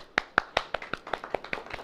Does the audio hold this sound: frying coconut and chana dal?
no